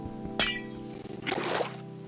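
Ice being broken in Minecraft gives a sharp crack and a brief glassy shattering burst, followed by a shorter crumbling sound, clear and close.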